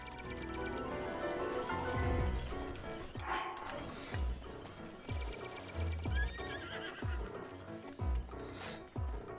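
A stolen horse in the video game Breath of the Wild neighs loudly near the start, then trots with a steady run of clip-clop hoofbeats over game music.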